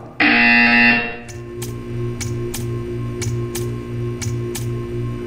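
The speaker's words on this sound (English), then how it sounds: "You will hear a buzzer." A buzzer in the video game Portal 2 sounds as one loud sustained tone for about a second, followed by a faint steady hum with a regular series of short clicking ticks.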